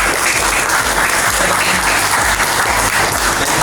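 A classroom of students claps in a rhythmic chant pattern during an Islamic studies lesson on aqiqah, steady loud group clapping with no speech over it.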